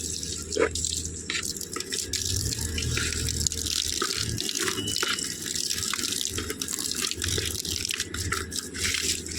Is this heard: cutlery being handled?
no